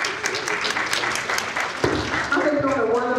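Audience clapping at an MLK Day program held by a county NAACP chapter, a steady patter of many hands swelling slightly toward the end, with a voice speaking over it.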